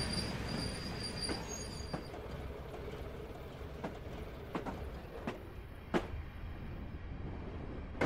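A Class 37 diesel locomotive hauling a brake tender rolls past on the line near St. John's Chapel in Durham, with rhythmic wheel clicks over rail joints, metallic squeals and a steady rumble heard from a moderate distance.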